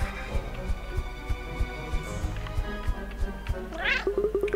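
A cat meows in the video game Cat Quest, over a rhythmic thumping music bed with a steady pulse, rising into a clear mewing call near the end.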